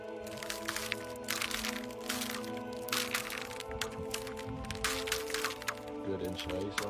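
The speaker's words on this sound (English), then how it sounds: "When you see such perfect, transparent ice, it is a special pleasure to step on it and hear the crunch." Footsteps on perfectly clear, transparent natural ice, at least an inch thick, produce repeated sharp cracks and crunches close by, with occasional voices faintly underneath.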